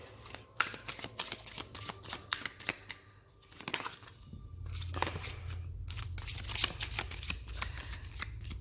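Tarot cards being shuffled by hand: a fast run of crisp riffling flutters and soft slaps, repeated in bursts with short pauses, close up and fairly quiet, with a low steady hum behind.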